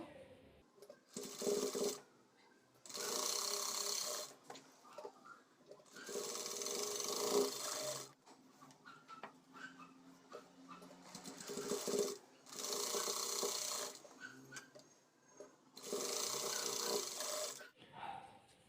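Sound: sewing machine stitching blouse back tucks

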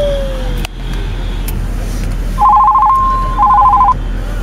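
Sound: telephone ringing

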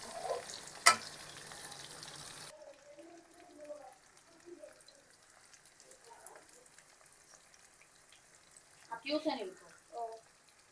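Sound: Jaffna-style singi shrimp frying in pan while being stirred

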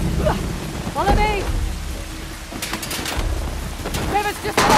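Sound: heavy rain pouring in video game Uncharted: The Lost Legacy

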